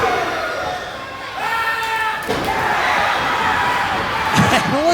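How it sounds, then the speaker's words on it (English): A wrestling event crowd roars and cheers steadily in a loud, dense wash, with a few sharper shouts rising near the end. "Listen to this crowd."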